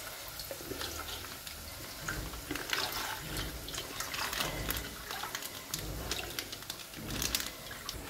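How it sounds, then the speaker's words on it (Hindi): Verka lassi, Punjabi buttermilk, is poured out for kadhi, a faint, continuous liquid splashing and gurgling with small irregular bursts and no talking. "लो जी लस्सी काढ ली"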